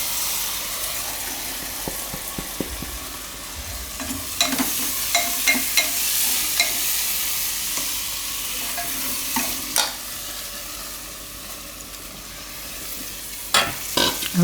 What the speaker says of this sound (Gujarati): હવે આમાં આપણે નાખી દઈએ આ ભાત ધોયેલા ચોખા.